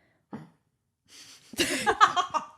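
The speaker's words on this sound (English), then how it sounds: "my dog just like let out a really loud cough." A dog lets out a loud cough indoors: one short, sharp huff, a pause, then a louder burst of raspy, hacking coughs close by.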